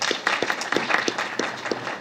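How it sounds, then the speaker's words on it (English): Brief applause from an audience at a school board meeting, a few scattered claps with a rhythmic patter over roughly two seconds, moderately close, with no talk. "Let's give her a round of applause first."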